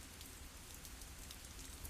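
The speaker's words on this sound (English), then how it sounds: "I just wish that it wasn't raining." Steady rain pours down over a city at night in an audio drama, a dense even hiss of countless drops hitting surfaces, close and continuous with no voices.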